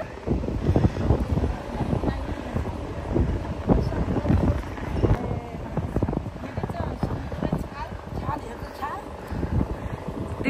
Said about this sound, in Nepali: कस्तो हावा लाग्छ